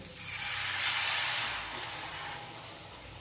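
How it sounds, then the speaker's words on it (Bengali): Water poured into a hot pan of spiced rohu fish head and rice sets off a loud, close hissing sizzle that swells quickly, holds, then gradually eases over a few seconds. "এবার আমি যেই বাটিতে আমার চাল ছিল সেই বাটির এক বাটি জল আমি দিয়ে দেবো"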